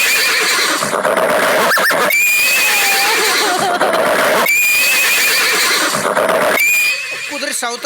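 A horse neighs loudly several times in repeated whinnying bursts spaced a couple of seconds apart, close by and filling the whole stretch.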